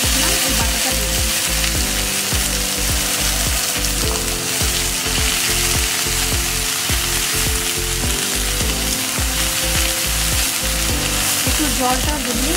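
Onion and a ground spice paste frying in a pan for a fish rezala, a loud dense continuous sizzle with fast repeated scraping stir strokes throughout, close and unbroken.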